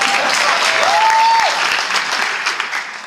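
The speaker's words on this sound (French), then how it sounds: "là vous pouvez applaudir." Audience applause at a political meeting in the Tarn, a dense, steady wash of clapping from a large crowd that holds loud throughout and eases slightly toward the end, with a brief whistle-like tone rising above it.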